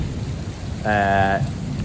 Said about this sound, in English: This is the first big rain, first time I've seen it.